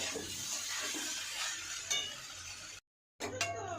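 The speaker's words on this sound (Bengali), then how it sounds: "দেখো লঙ্কা ভাজা হচ্ছে শুকনো লঙ্কা" Dry red chillies frying in a pan for rice khichuri, a steady hiss of sizzling oil with spoon scrapes and clinks against the pot, a brief silent gap, then more sizzle and metallic taps.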